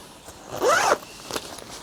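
A metal zip on a fishing tackle bag is pulled open in one quick, rasping close-up stroke, followed by a few small clicks and handling sounds.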